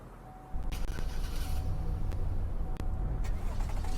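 A truck engine in the Roblox game Greenville starts and settles into a low, steady idle rumble, with a few faint clicks over the top.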